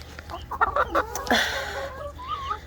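Chickens cluck and squawk in a coop, with several short, close calls in quick succession followed by softer murmuring clucks.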